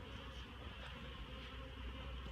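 Dense, continuous buzzing of many honeybees swarming close by during drone-brood culling, a steady droning hum without pauses.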